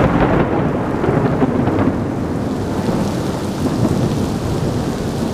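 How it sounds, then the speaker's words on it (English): Heavy rain pours steadily in Florence, a dense, loud wash of downpour close by, with low rolling thunder rumbling beneath it and no voices. "it is absolutely pouring with rain today"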